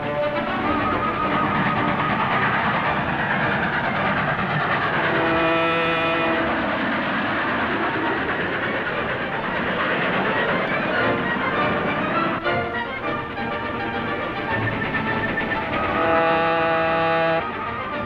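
A train rolls on rails in a radio-drama scene, a dense, continuous roar of wheels and engine rumble that fills the whole stretch, with whistle-like tonal blasts cutting through near the middle and again at the end.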